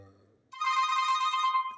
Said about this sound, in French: Attendez une minute, mon téléphone